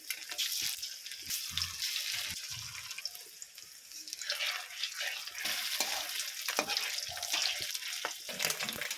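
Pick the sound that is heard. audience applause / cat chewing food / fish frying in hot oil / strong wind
fish frying in hot oil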